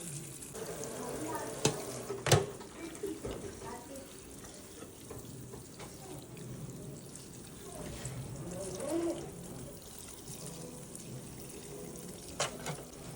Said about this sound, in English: I'm going to wash it again with warm water